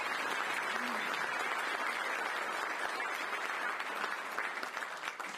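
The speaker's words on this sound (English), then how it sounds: "So please a round of applause for those people." A luncheon crowd applauds steadily, a dense wash of many hands clapping at moderate distance, sustained throughout and tapering slightly at the end.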